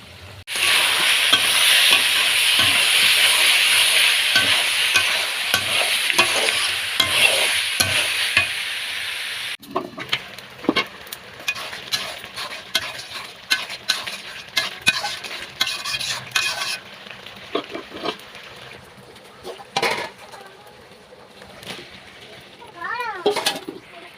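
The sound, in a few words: meat being stir-fried (kosha) in a pan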